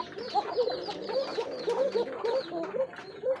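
Fancy pigeons at a breeder's loft, including a cocker pigeon, give repeated throaty cooing calls in close overlapping bursts, steady and fairly loud, with no talk over them.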